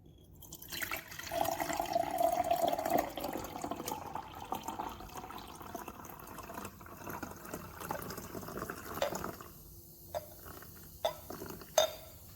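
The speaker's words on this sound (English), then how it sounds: "To make the luminol glow, I just have to mix these two solutions together." Liquid chemical solutions for a luminol glow reaction are poured together and mixed, giving soft pouring and dripping, faint glass clinks, and a few sharper splashes near the end, with no talk.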